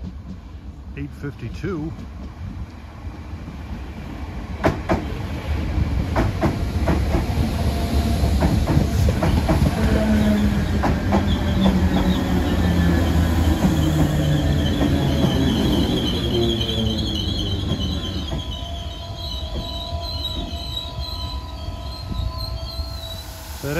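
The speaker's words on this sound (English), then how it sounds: "Here comes a Bray-bound DART train" A Bray-bound DART commuter train passes near Dublin, rumbling closer with rhythmic clickety-clack over rail joints and a long wheel squeal, then fading; someone talks over it.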